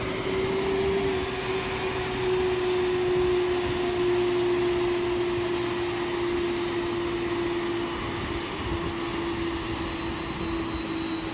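Jet engines of a Condor Airlines widebody airliner running at the gate after a New Orleans arrival, a steady loud whine and roar holding with a constant high tone throughout, no voices.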